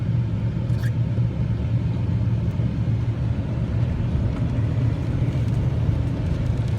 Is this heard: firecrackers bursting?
no